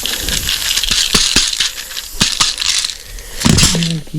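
Metal tire studs for studded winter tires are loaded into the barrel of a studding gun, producing close, loud metallic clinks and rattles in scattered bursts.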